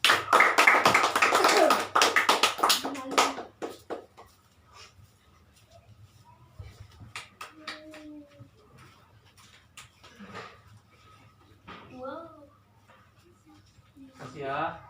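Classroom students clap in a lively burst for the first few seconds, then it fades to scattered taps and a few voices talking in the room.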